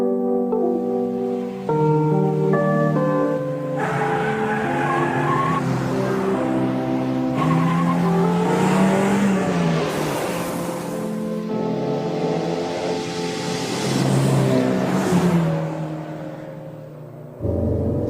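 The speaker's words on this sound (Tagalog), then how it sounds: "Uy, may kotse pa parating." Animated cars race and approach with sustained engine roar, rising revs and tire squeals, loud and close, layered with whirring tones and changing pitch over a long stretch.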